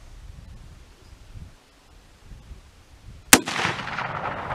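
A single sharp rifle shot from a 30-30 or 30-40 Krag cracks loudly near the end, followed by a rolling echo that decays over a second, after quiet outdoor ambience with faint rustling.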